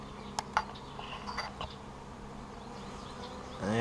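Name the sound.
honeybees at a hive during possible mating flights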